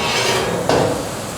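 A steel angle-iron frame for a mirror being flipped over on a welding bench gives a single close metallic clatter and scrape partway through, over a steady workshop hum.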